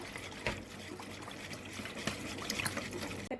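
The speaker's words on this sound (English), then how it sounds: "I poured it in a pan" Brown sugar, honey and rice vinegar sauce mixture pouring into a pan, a soft continuous liquid trickle with faint clinks, close and quiet, no talking.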